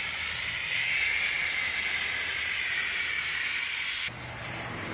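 A car wash pressure wand sprays tire cleaner in a steady, loud hiss that runs unbroken and close, then drops slightly in level near the end as the spray shifts.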